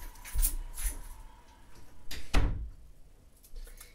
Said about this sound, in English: I'm going to shut my door really quick